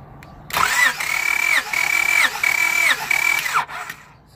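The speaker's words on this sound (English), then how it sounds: "I'm gonna crank our engine one more time." Car engine cranking on the starter during a compression test for a misfire, a steady whirring crank in several bursts with brief pauses between, close and fairly loud, ending in silence.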